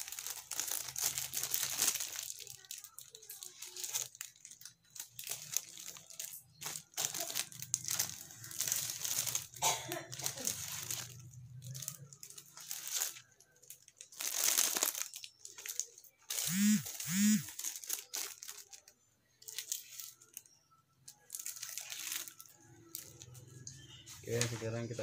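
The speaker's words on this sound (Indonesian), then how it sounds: "Coba di selincing plastik sekarang." A Willys Gen 1 steel cattle-slaughter cleaver with a full horn handle slices through a plastic sheet, giving soft crinkling and rustling bursts under ongoing talk.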